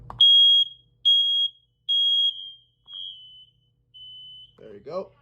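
A home smoke detector shrills during a test in a series of piercing, high-pitched beeps, three strong tones then two fainter ones, with a brief voice at the end.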